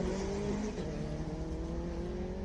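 Honda VTEC race car at a hill climb, its engine revving high and steady in a loud, sustained buzzing howl with shifting pitch, heard continuously and close.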